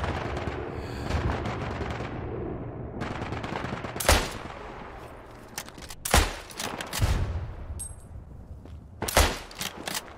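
Gunfire in the World War I shooter Isonzo, with sharp rifle and machine-gun shots cracking at irregular intervals amid the surrounding battle noise, some close and loud, others further off.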